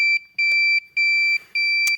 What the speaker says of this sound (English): If I go the other way, for ground, you will get the slow beep.